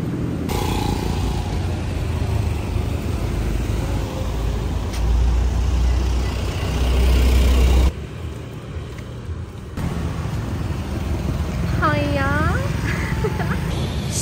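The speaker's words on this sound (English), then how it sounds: "I don't know if you're going to be able to hear me because there's so many cars" Busy street traffic near a holiday villa, a continuous roar of passing cars and engines with rumbling low-end swells, a quieter stretch partway through, and a faint chirping bird or squeak near the end.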